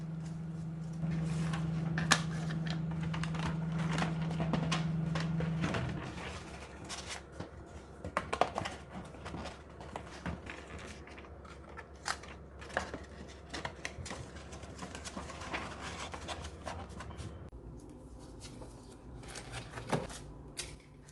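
Paper is creased and folded into a Halloween gift box for sweet pumpkin cream cheese muffins, with soft rustling, crinkling and tapping sounds scattered through the clip and a few sharper clicks, heard close up with no talking.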